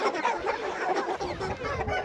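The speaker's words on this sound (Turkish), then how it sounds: "kazların orada kavga çıktı galiba" Farmyard poultry, geese squabbling among chickens and a rooster, give a dense, continuous clamor of squawks and clucks, loud and close throughout without pause.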